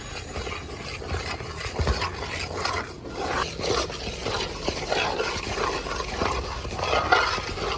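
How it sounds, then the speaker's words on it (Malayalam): Ripe jackfruit being stirred and sautéed in ghee in a pan for chakka payasam, a continuous scraping, rasping stir with a soft sizzle underneath, close and steady. "നല്ലപോലെ ഇതിൻ്റെ പച്ചിപ്പൊക്കെ ഒന്ന് മാറുന്നിടം വരെ നമുക്ക് നല്ലപോലെ ഒന്ന് ഇതിനകത്തിട്ടൊന്ന് വഴത്തിയെടുക്കാം"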